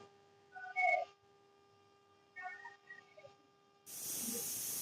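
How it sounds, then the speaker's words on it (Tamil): A pressure cooker on a kitchen stove, cooking bottle gourd green kurma, lets out a sudden loud steam hiss that carries on to the end after a quiet stretch of faint kitchen tones. "அது வந்து குக்கர் மூடி வச்சுட்டு ஒரு 2 விசில் வச்சுக்கலாம்"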